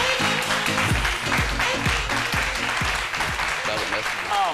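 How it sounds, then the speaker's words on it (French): Studio audience applause greets a guest on a French-language midday TV talk show, continuous and full throughout with music and voices underneath. "que je vous demande d'applaudir"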